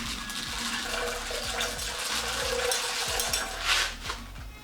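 Popcorn kernels poured into about half a litre of water in a tall vessel set in a bowl, a continuous rushing, splashing pour that swells briefly near the end.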